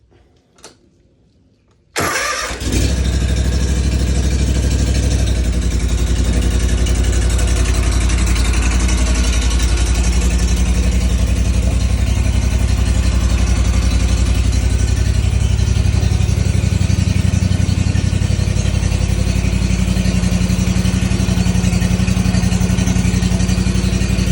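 Lawn mower engine fired up on choke, catching after a brief quiet moment and then running loud and steady close by for over twenty seconds, its rough idle rumble constant throughout.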